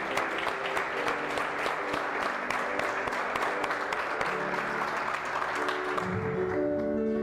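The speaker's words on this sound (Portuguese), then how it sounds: "aplauda o Senhor" A church congregation applauds steadily in praise, dense clapping sustained throughout at an even level, with a few tonal musical notes rising near the end.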